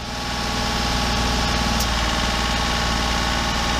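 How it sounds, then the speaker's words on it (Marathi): A 2013 Chevrolet Beat diesel engine runs steadily at raised revs, held at one level with a continuous low throb and rattle, loud and close, with no talk heard. "थोड़ा रेस कर, एक लेवल में रेस रख और AC बंद कर और चालू कर"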